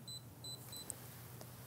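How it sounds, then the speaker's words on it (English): A Fluke 120B ScopeMeter in record mode gives three short, high electronic beeps in a row at each new min or max reading, evenly spaced, faint against a quiet background hum. "you hear the beeping every time there's a new min and max"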